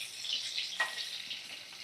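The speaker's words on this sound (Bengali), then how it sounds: "এইভাবে ভাজা করে নিচ্ছি" Potatoes frying in turmeric-and-salt oil over a medium flame for a chicken dish, a steady soft sizzle with a brief louder crackle partway through, no voices.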